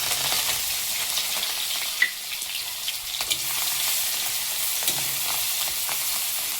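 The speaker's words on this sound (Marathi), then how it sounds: "तेल तापले त्याच्यात आता जिरी आपण केलेला हा मिरचीचा ठेचा" Chili paste with cumin sizzles and fries in hot oil in a wok, a steady, loud hiss that runs throughout, with a few stirring clicks and scrapes mixed in.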